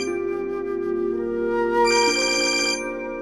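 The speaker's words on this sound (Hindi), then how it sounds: "किसका फोन बज रहा है?" A mobile phone rings with a repeating electronic ringtone melody, steady and fairly loud, stepping up in pitch midway, with no voices over it.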